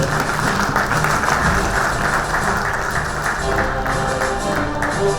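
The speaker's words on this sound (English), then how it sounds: "Can I have a round of applause for him?" Audience applause at a Bangalore tech-industry panel event, a steady dense wash of clapping filling the room for several seconds, with faint voices and background music tones underneath.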